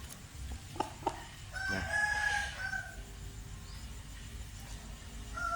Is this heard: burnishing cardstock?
no